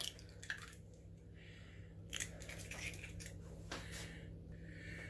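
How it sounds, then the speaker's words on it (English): An egg is cracked into a bowl of onion and potato pakora batter, giving faint close crunching and squishing sounds in a few brief bursts over a low steady hum. "Crack 1 egg."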